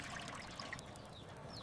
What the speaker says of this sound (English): Keep pouring, Meera.